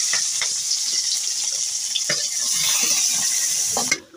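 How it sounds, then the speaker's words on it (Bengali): Garlic, onion, green chilies and dried chilies frying in hot oil for a mashed taro-root dish, a steady close sizzle with a few clinks and stirring scrapes, ending abruptly. "এখন আমি রসুন, পেঁয়াজ, কাঁচামরিচ আর শুকনো মরিচটা সুন্দরভাবে ভেজে দেব।"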